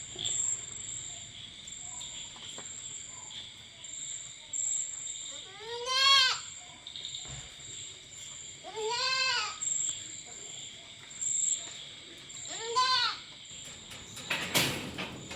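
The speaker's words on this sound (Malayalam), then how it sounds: "നാല് വലിയ മലബാരി ആടുകളും ഒരു കുട്ടിയും" Malabari goats bleat three separate times, loud wavering calls spaced a few seconds apart, over a constant high insect drone and faint rustling.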